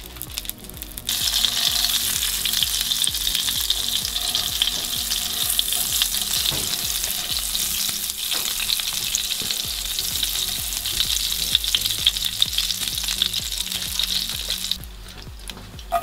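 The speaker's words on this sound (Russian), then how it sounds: "Отправляю в сковородку сливочного масла." Butter sizzling and frying in a skillet for a salmon dish, a dense, steady crackle that lasts throughout with occasional stirring.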